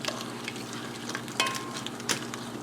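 Onions cooking in butter in a soup pot give off a steady, soft sizzle with faint crackles and a couple of brief sharper pops, close and alone.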